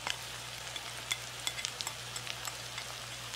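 Diced jalapenos, onion and garlic fry in a pan with a continuous bright sizzle and scattered pops and crackles over a low steady hum, heard alone at moderate level.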